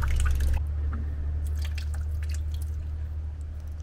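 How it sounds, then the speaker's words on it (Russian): Soft, sparse drips of water fall from a spring in Bulgaria over a low steady hum of outdoor background noise, with a brief louder rustle at the very start. "вода вот так капает"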